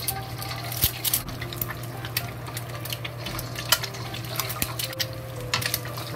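An egg cracked into hot oil in a pot, making a soft sizzle with light clinks and taps of kitchenware, heard close up over a steady low hum, with no voices.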